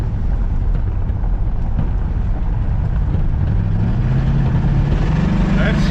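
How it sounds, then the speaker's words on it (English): A 1992 Ford F150's engine drones loudly and continuously as its slipping transmission lets the revs climb, then the pitch rises toward the end as it pops into gear. "I mean, it's slipping and then it's popping into gear."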